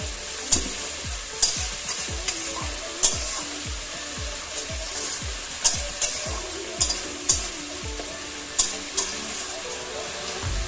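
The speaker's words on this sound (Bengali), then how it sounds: "এটাকে ভালো করে একটু কষতে দিতে হবে যতক্ষণ না মশলাটা তেলটা ছেড়ে আসছে।" Ginger paste and spices fry in hot oil in a pan for Bengali khichuri, a steady sizzle broken by regular scraping stirs of the spoon, close and fairly loud, with no talking.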